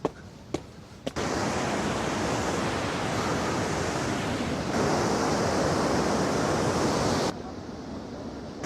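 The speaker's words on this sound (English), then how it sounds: "the width is about 100 feet, making it a very beautiful waterfall" A loud, broad rushing roar of Bow River waterfall, about 100 feet wide and 30 feet high, fills the scene continuously, steady and close, with brief quieter moments at the start and end.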